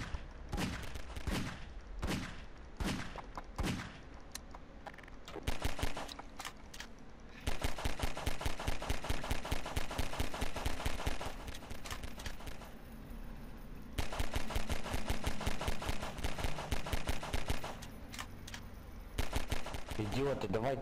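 Magnum revolver shots fired in the Garry's Mod game, Flood mode, a series of sharp loud bangs, first single spaced shots, then long rapid bursts of gunfire alongside other players' fire.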